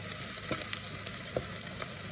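Onions soften in a frying pan with a quiet, even sizzle and a couple of faint spoon taps, heard close and low.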